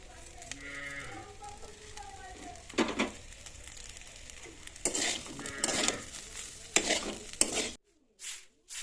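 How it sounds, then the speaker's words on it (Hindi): Food fries in a pan with a low sizzle and several loud stirring scrapes. Goats or sheep bleat in the background early on, and the sound cuts out briefly near the end. "ये फ्राई होगा"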